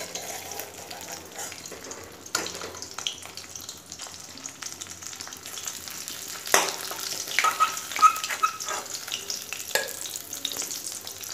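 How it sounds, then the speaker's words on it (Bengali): Pieces of fish fry in oil in a wok, a close, continuous sizzle with crackling bursts and scraping stirs as they are turned over. "উল্টে পাল্টে মাছগুলোকে ভালো করে ভেজে নিয়েছি"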